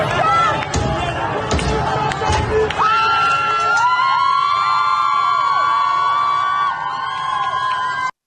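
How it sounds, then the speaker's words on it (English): Large protest crowd in Iran moving toward an IRGC command center, a loud mass of shouting and cheering voices with sharp bangs early on, then sustained chanting and whistling tones. "So here is the, I guess the crowd moving toward one of the IRGC command centers"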